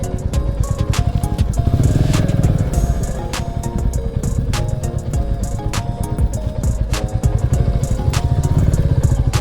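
Royal Enfield motorcycle engine running steadily with a dense low thumping rhythm and occasional metallic clatter, close and loud throughout, no talking.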